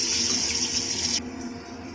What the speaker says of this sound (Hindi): अब उन्हें हम गर्म पानी दाल और चावल में डाल दे रहे हैं।